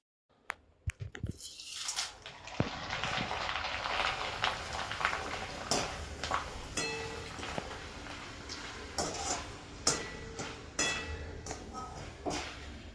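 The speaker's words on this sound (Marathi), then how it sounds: "आता आपण डाळ फ्राय करतोय" Dal lentils frying in a pan while being stirred for crispy chivda, with a steady sizzle and frequent clinks and scrapes of the spoon against the metal pan.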